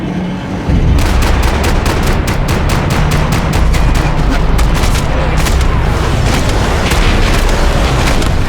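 Max Payne 3 gunfire, loud rapid automatic bursts of shots cracking close by in a dense, continuous barrage after a brief quieter opening.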